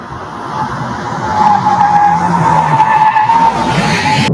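A car's tires squeal in a long, loud skid with ABS pumping, the pitched screech wavering over engine noise for several seconds.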